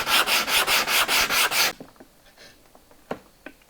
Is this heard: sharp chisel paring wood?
yes